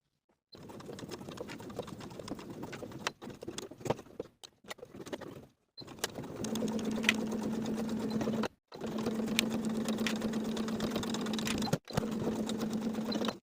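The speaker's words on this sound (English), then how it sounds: "Sew both seams with a 1/4 inch seam allowance using your hand wheel" A sewing machine stitches the zipper seams of a crossbody belt bag, running in short bursts at first, then in longer steady passes broken by brief pauses.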